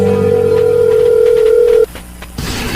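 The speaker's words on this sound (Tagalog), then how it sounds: "Please, Emil, sagutin mo ang telepono" A telephone rings in a Filipino radio drama, a loud steady electronic tone that holds for nearly two seconds, then cuts off into a brief quiet before a hissy click.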